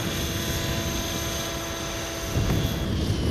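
An Align T-Rex 600 ESP RC helicopter with a flybarless head, running on 12S, hovers close by with a loud, steady whine and blade chop. The rotor noise deepens and swells near the end.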